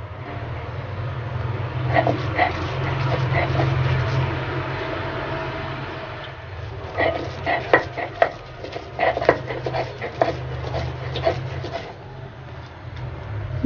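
Eggplant and fish bharta is ground by hand on a flat stone slab with a grinding stone, giving soft repeated scraping and knocking strokes in an uneven rhythm. The strokes grow sharper and more frequent midway, over a steady low background hum.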